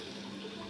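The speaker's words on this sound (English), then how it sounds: "we're going to just spray everything off with cold water" Cold water spraying onto a stainless steel sink, a steady broadband hiss of liquid that holds evenly through the short stretch, fairly faint and with no voices.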